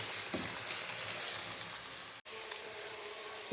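Ginger and garlic sautéing in a pan, a continuous crackling sizzle with occasional stirring scrapes, close and moderately quiet, briefly cutting out for a moment partway through.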